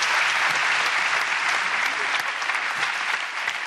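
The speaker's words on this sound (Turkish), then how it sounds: "Şaka bu ya, gerçekten alkış." Loud, dense studio audience applause from a Turkish TV comedy talk show fills the room steadily from start to end, with no voices on top.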